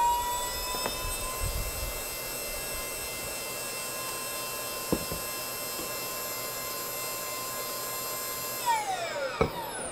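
An electric motor with no propeller attached spins at steady high speed during an RPM test, a constant whine with a few faint clicks, then pitch sweeps as it changes speed near the end.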